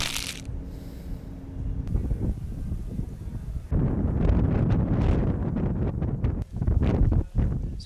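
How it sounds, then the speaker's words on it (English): Gusty wind at a bayside pier buffets the microphone with a rough, roaring rumble that swells and drops, no voices present. "it's windy today"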